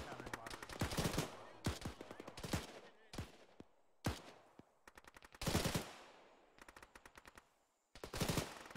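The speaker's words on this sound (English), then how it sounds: "Presume that's him shooting up them Charlies over there." Bursts of gunfire from a military shooter game: repeated rapid machine-gun volleys and scattered shots in several separate clusters with short pauses between them, set somewhat back and moderately loud.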